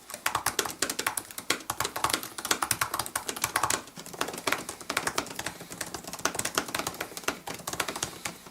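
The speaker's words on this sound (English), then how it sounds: "this also changes the clicking tone of the keys" Fingers type rapidly on the keyboard of a 13-inch 2018 Apple MacBook Pro, producing a dense, continuous stream of close, crisp key clicks with no voices.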